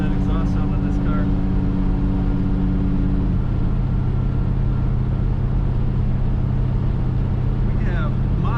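A 1962 Chevrolet wagon rumbles with a loud, continuous low exhaust drone, heard from inside or close by, with faint chirping and brief tonal sounds near the start and end.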